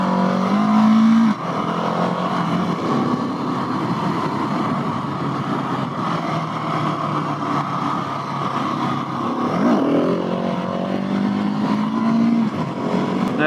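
A Husqvarna 701 motorcycle engine roars steadily while ridden, loud and close, with the pitch dropping and climbing again as the throttle is eased off and revved back up.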